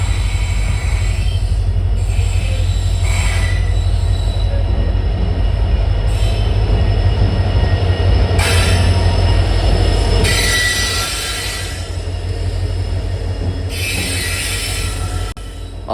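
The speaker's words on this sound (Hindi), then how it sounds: "ये है तिरुपति अमरावती एक्सप्रेस जो कि आ रही है निज़ामाबाद मुदखेड़ वाली लाइन से" Tirupati Amravati Express arriving at Purna Junction station in Maharashtra, a loud continuous rumble of rolling wheels with repeated high metallic squeals from the rails, close by and unbroken by talk.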